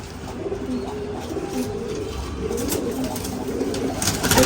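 Giribaz pigeons coo softly in low, murmuring repeated phrases, layered together in a steady background hum with no talking.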